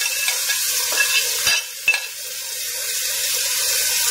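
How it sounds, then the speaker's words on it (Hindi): Masala with yogurt and tomato sizzles steadily in a pot, the frying hiss continuous with a few brief scraping stirs near the middle. "ये सारी चीजें डाल के मसाले को जो है थोड़ा सा भूनें"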